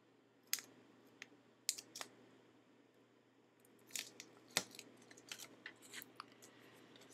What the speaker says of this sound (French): pour coller celle-ci, on va enlever notre double face